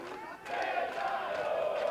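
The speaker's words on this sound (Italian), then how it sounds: "Intanto si alza il tifo dagli spalti pesaresi, c'è voglia d'impresa." Rugby fans in the stands at a Pesaro home match, a sustained crowd chant and roar that swells and holds, with an announcer speaking over it.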